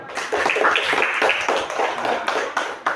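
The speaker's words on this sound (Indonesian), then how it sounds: "Ayo tepuk tangan untuk kita semua." A group of standing students claps their hands together, a brisk, close run of many overlapping claps filling the moment with light background chatter.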